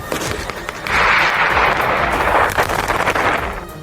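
A loud, broad roaring blast from a missile strike on buildings by the Mediterranean coast swells and rumbles for a few seconds, with crackling debris-like noise trailing off, heard from some distance.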